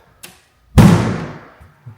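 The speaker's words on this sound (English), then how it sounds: "the door sticks a little." A sticking interior door in a house with hardwood floors gives a faint knock, then a single loud thudding jolt as it breaks free and opens, the sound decaying quickly into the room.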